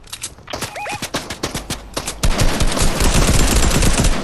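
In Fortnite, loud gunfire starts as several spaced single shots, then turns into a dense, sustained burst of rapid automatic fire.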